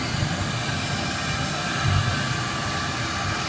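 A Tormach CNC mill drives a 3-flute high-helix Destiny Viper carbide end mill at 5,100 RPM through UHMW plastic on a finishing pass, giving a loud, steady broadband whir that continues unbroken throughout.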